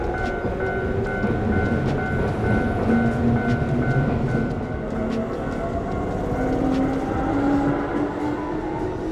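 A steady rumble of a train ride pulling into Kyoto station, with continuous rolling noise, faint clicking and long drawn tones of the wheels and motors, close and unbroken, with no voices.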